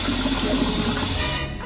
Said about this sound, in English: Let me flush the toilet.